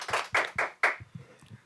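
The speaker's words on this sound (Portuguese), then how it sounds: "Palmas aqui pro mestre." Applause for a guest professor on a talk show: four sharp bursts of clapping from a small group, close and fairly loud, then fading into a few scattered quieter claps.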